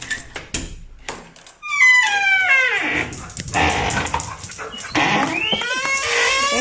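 Several dogs on a ranch in Colima, Mexico yelp, whine and bark excitedly around feeding time, a busy overlapping chorus of rising howl-like cries and sharp yips, fairly close and loud.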